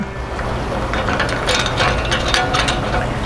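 Ratcheting clicks come from a counterweight nut being cranked down on a DIY rotisserie fitted to a Lone Star Grillz offset smoker, a close, loud, rapid mechanical clatter with no talk.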